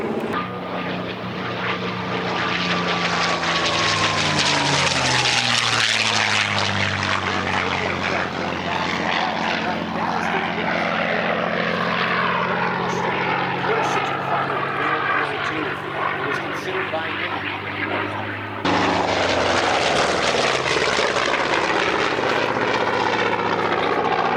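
A Bearcat propeller warbird passes over an airshow in McMinnville, Oregon, its loud droning engine rising and then falling in pitch as it flies by, continuous for the whole stretch and joined by an announcer's voice.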